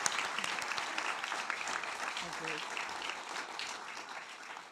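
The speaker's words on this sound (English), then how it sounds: "give Vernon a round of applause for being such a brilliant host" An awards-gala audience applauds the host, a broad sustained wash of clapping across the hall with a brief spoken thanks heard over it.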